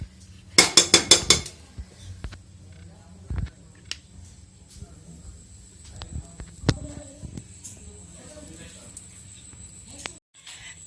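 Cooked pulao being transferred into a dish, opening with a quick rattling burst of metal spoon scrapes and clinks against the pot, then a few scattered knocks and quiet handling sounds.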